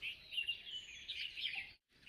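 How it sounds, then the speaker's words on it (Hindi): Birds chirping outside a house veranda, a faint, distant chorus of high tweets and calls that continues steadily with brief quiet gaps, no talk. "बिल्कुल शांत, सिर्फ चिड़ियों की आवाज़ आ रही है।"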